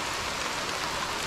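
Near Kote Abbe falls in Coorg, rain pours as a dense, even hiss of drops on surfaces, steady and close for a brief stretch with no voices.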